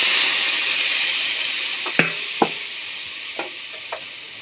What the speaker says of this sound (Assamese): এতিয়া ইয়াত দিম এগিলাচ পানী।